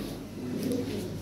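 Lahori pigeons at a farm giving a brief, soft low coo, faint and close, over a muffled background.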